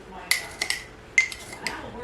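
A teaspoon clinks against glass canning jars while chicken noodle bone broth is being canned, giving two bright metallic taps, each followed by softer small clinks, close and fairly quiet.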